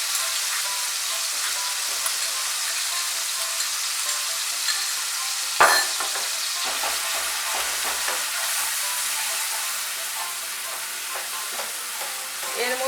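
Poppy seed paste stirred into softening tomato in a hot pan, frying with a steady continuous sizzle, close and fairly loud, with a sharper scrape or clatter of the spoon near the middle.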